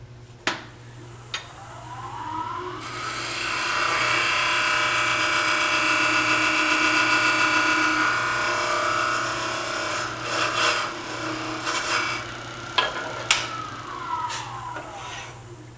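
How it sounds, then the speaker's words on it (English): Sandpaper rubs a polished ceramic bead in a steady back-and-forth scratching that grows louder and then fades, followed by a few sharp taps and knocks, close and without talk. "I'm going to take sandpaper and rough this up so that when the epoxy goes on, I've got a little bit of tooth for it."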